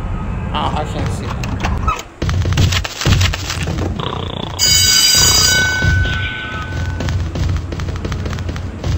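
A telephone rings in the video game MDickie's School Days, a bright electronic trilling over booming game sounds, with a voice talking throughout.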